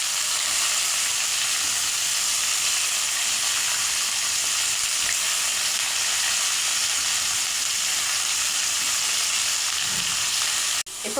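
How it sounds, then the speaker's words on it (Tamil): Vegetables for sambar fry in a pan in a Chennai home kitchen, giving a loud, continuous, even sizzle that fills the whole stretch, ending with a brief knock near the close. "இப்போ எல்லா காய்கறியுமே சேர்த்துக்கலாம்."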